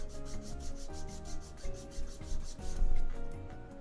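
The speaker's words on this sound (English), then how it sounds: "The sanding part is a little tedious," Hand sanding of a small workpiece, a rapid run of rhythmic back-and-forth rasping strokes, close and fairly quiet, with no voices.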